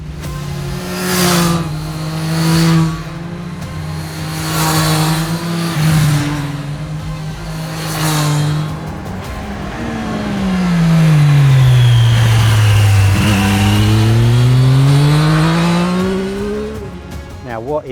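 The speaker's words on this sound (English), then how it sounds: "This is the Triumph Street Triple 765" A Triumph Street Triple 765 RX motorcycle engine revs loudly and close by, with repeated throttle blips followed by a long rise and fall in pitch, and a person talks over the first part.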